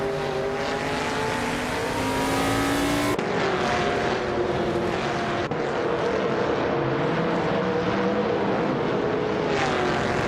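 Race cars in a racing video game, several engines droning and whining together at high revs with pitch shifting as cars pass, loud and continuous without pauses, no talking.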